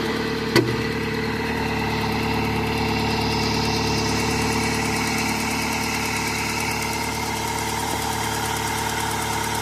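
An overheated Dodge Aries engine idles with a blown head gasket, running as a steady, close mechanical hum with a faint knocking texture, after a single sharp click near the start, with no talking.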